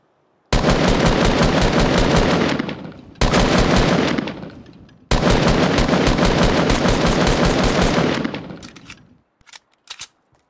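Rapid automatic gunfire in the video game Fortnite, loud and sustained in three long bursts with brief gaps, tailing off into a few scattered shots at the end.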